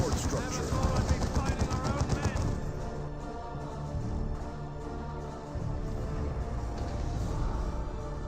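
Sustained automatic fire from a heavy weapons team in Dawn of War 2, dense overlapping bursts loudest at the start then settling into continuous battle noise beneath a voice talking throughout.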